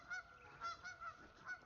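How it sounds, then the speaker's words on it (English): Several geese honk in short, faint calls, about five spaced through the clip, distant at an outdoor hunting spot with a box blind and clover plot, with no talking. "We got a few geese around here"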